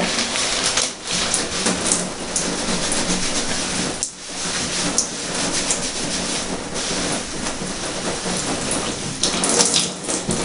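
Tap water runs steadily into a sink while shampoo is lathered through hair, a dense continuous splashing rush with small dips and swells as hands move, close and fairly loud with no talking.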